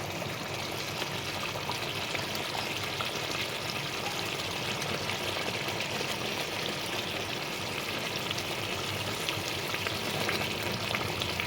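Pieces of fried eggplant sizzle steadily in a simmering begun bahar curry, a dense, even hiss holding for the full length with no pauses and no voices.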